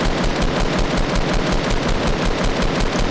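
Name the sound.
assault rifle and RPG fire in the video game Fortnite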